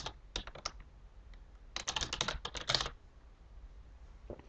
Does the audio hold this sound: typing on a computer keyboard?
yes